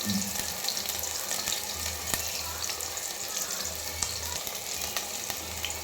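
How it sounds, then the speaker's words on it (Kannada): Chicken gravy ingredients frying in a pan until browned, a continuous close sizzle and bubbling with occasional scrapes and clicks, no talking. "ಇವಾಗ ಬರೀ ಫ್ರೈ ಮಾಡ್ಕೊಳ್ತೀವಿ ಬ್ರೌನ್ ಕಲರ್ ಆಗೋವರೆಗೂ"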